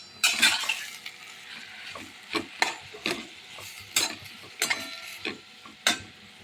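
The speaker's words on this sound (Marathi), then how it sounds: "या मिश्रणामध्ये आता आपण भात घालणार आहोत. चांगले परतून घेणार आहोत." Cooked rice being stir-fried into a soybean mixture, quiet background sizzle punctuated by sharp, irregular clinks and scrapes of a metal spatula against the pan, several distinct strokes, no talking.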